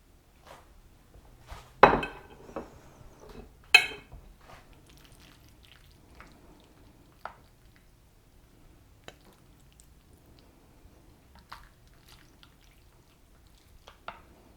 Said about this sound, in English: So let me plate up this meal.